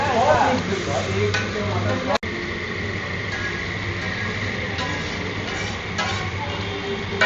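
Mutton mix chow mein with soy sauce sizzles on a street food stall in North Kolkata as it is stir-fried, a steady hiss with scraping stirs and one sharp metallic clack.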